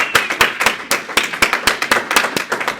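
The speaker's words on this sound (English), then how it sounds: "If you could give a big round of applause." Audience applause for panelists at a university panel discussion at UCSC, heard as a sparse group of distinct, close claps with a loose, uneven rhythm, with no voices over it.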